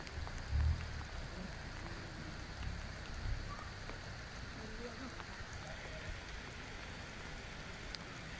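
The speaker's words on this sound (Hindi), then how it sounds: "शुगरा में माशाल्लाह बारिश हो रही जी" Steady rain falling in Shugran, Pakistan, a soft continuous patter on surfaces with a faint hiss that stays even throughout, with a brief low bump near the start.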